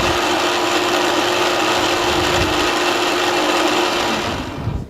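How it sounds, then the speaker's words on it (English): A blender purees vinaigrette ingredients, Dijon mustard, salt and pepper among them, in a loud, steady motor whir that holds for nearly five seconds before starting to wind down at the end. "I'm just going to puree that to where it all gets mixed up"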